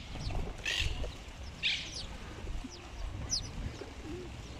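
Common house sparrows in Madrid chirp in short, scattered calls, a few close sharp chirps against a low rumbling city background, with soft cooing-like sounds mixed in.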